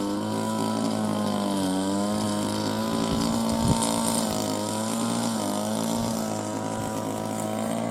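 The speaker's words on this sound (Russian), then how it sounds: "Мария там косит дальше." A power trimmer whines steadily as it cuts grass in a village yard, a constant buzzing engine drone that holds pitch with slight wavers for the whole stretch, no talk.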